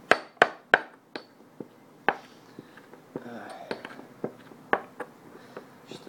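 Brahmi leaves are pounded and mashed in a mortar with a pestle, a run of sharp, irregular knocks and taps, some close and loud, others softer, in a quiet room.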